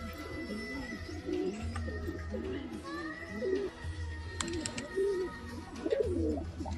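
A male and female pigeon pair coo in repeated low, throaty phrases close by, with faint birdsong and distant background voices behind them.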